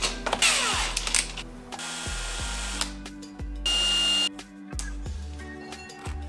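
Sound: drilling a small pilot indentation with a 2-3 mm drill

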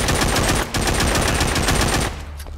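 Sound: 7.62 machine gun fire in video game The Walking Zombie 2

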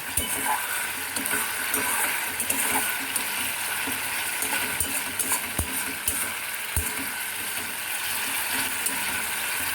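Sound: spice paste frying in oil for egg korma

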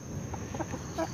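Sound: rooster clucking

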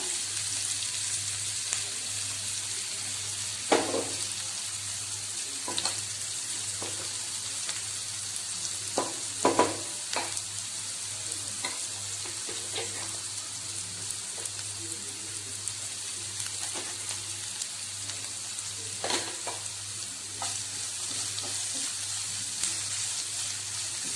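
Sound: green masala sautéing for moringa rice

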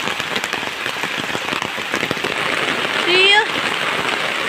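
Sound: heavy rain falling

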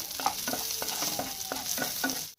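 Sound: stirring onions and chillies frying in hot oil

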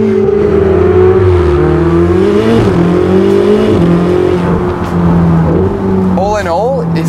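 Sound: 2016 Ferrari 488 GTB twin-turbo engine accelerating

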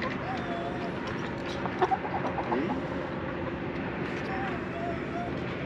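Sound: hen clucking in a chicken coop

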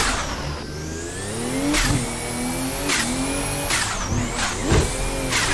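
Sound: car engine revving in Assetto Corsa video game

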